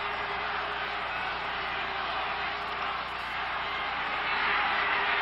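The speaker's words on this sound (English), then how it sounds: "Listen to this crowd." A steady, loud roar from the football stadium crowd at the Grey Cup, Edmonton Eskimos against Montreal, holding an unbroken broadband wash that swells slightly toward the end.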